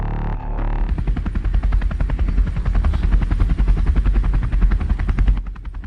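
Helicopter arriving, its rotor blades beating in a loud, rapid, steady chop that builds after a brief lead-in, holds strong for several seconds, then cuts off abruptly.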